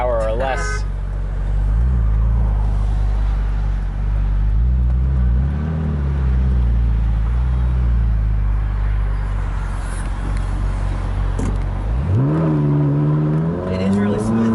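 A Ferrari 458 Italia being driven on the road, its engine a steady low drone inside the cabin that climbs in pitch near the end as it accelerates, with people talking over it throughout.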